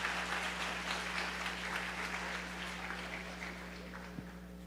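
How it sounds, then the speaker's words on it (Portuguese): A church audience applauds steadily, a soft, continuous wash of clapping that fades slightly toward the end. "Uma salva de palmas para essas pessoas que estão discipulando"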